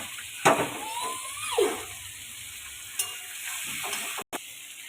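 Fried potatoes are stirred into onion and tomato frying in a pan, with scraping spoon strokes, a few sharp knocks against the pan and a steady high sizzle running underneath.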